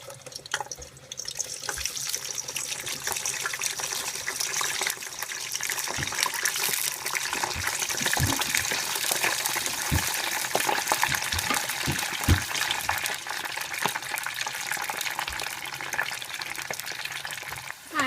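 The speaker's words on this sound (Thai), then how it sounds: "ก็ลองทอดไปอันนึงก่อนว่าใช้ได้ไหมใช้ได้ ใช้ไฟกลางนะคะ" Frozen potato french fries deep-frying in oil over medium heat: a dense, steady bubbling sizzle with a constant hiss and sporadic sharper crackles, sustained throughout with no speech.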